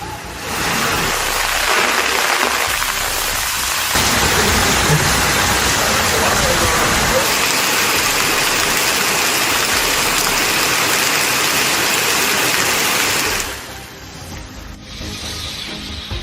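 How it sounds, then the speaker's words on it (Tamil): Heavy rain pours in Nagapattinam district, Tamil Nadu, a loud, dense, steady hiss that fills the scene almost unbroken before easing slightly near the end. "நாகை மாவட்டத்தில் நள்ளிரவு முதல் கனமழை கொட்டி தீட்டது"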